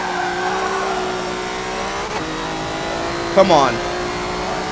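Volvo race car engine in Forza Motorsport 7, a steady droning whine that shifts pitch as it revs, with a brief tire squeal near the end and someone speaking briefly over it.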